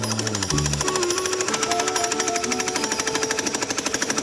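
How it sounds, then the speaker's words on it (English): A jackhammer pounds steadily at concrete during a home build, its rapid rhythmic hammering loud and continuous throughout with no talking. "They got the jackhammer out."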